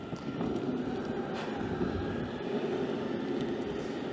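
Maxfind Cyber Mini X electric skateboard running at full throttle, a steady loud motor whine and rolling drone held continuously throughout with no talk.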